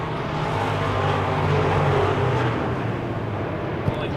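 Wissota Midwest Modified race cars roar around a dirt oval track, a continuous loud engine drone with droning harmonic tones. An announcer talks over it.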